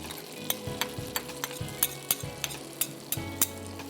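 Crushed garlic sizzles in melted butter in a pan, a steady soft frying hiss with a spoon clinking and scraping against the pan at regular intervals, close and quiet.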